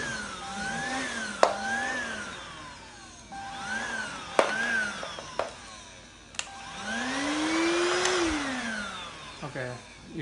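A Deik 2-in-1 cordless upright vacuum cleaner runs with a steady whine and rush of air that rises and falls as it moves, with a few clicks and knocks and a voice talking over it.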